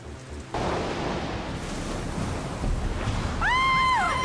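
A storm at sea batters a sailing boat, the Trashman, with a dense roar of wind, rain and crashing water that swells after a brief quieter start, loud and close, with a brief tonal whine near the end.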